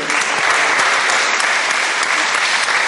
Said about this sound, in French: Et n'oublions pas de saluer notre public que je vais applaudir.